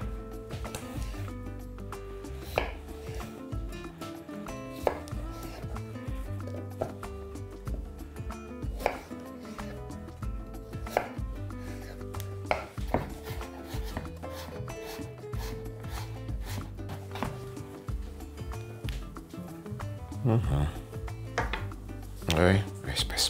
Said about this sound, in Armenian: Սա էլ մանր կտրատում եւ ավելացնում ենք կաթսայի մեջ